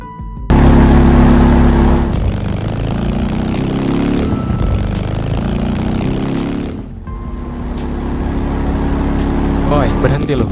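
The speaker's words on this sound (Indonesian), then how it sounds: "gua dengar suara motor tuh" A motorcycle engine drones loudly and steadily in a 2D animated scene, its tone shifting as it approaches, with voices speaking over it.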